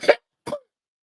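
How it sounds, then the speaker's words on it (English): Two short, sharp coughs from a person, close and fairly loud, separated by about half a second of silence, with the second cough trailing off slightly. "let me cough."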